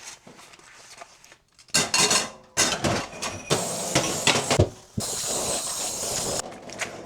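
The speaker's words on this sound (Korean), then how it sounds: "접시를 닦아요." Plates scrubbed by hand with rubber gloves in a kitchen sink at an Airbnb in Haeundae, Busan, with close, irregular clatters and knocks of dishware alongside bursts of running water and hissing spray.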